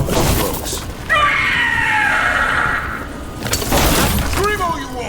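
A monster in the Dragon Age: The Veilguard video game lets out a long, loud shrieking scream after a burst of shattering, with a second cry and a voice around it.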